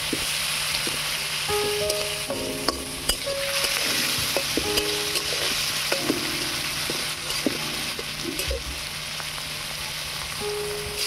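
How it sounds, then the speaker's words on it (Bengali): Prawns seasoned with salt and turmeric fry in hot mustard oil, a constant close sizzle broken by scattered clicks and scrapes of stirring, with faint tonal sounds in the background and no speech. "এবারে চিংড়ি মাছটা ভালো করে ভেজে নেব।"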